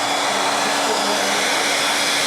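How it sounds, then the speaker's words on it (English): A hair dryer blows steadily at close range, drying fresh paint on a wooden duck with a continuous, even whoosh and motor whine that holds unchanged throughout. "Hair drying the paint on a wooden duck."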